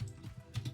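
A short run of soft computer keyboard taps, a few quick strokes close to the mic at low volume, heard during a Call of Duty 2 tournament stream.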